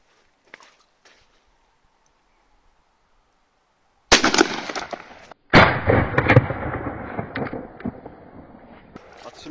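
Air rifle test shots at 36.5 metres ring out as two sharp, loud cracks a second or so apart, each followed by a rattling echo, after several seconds of near silence.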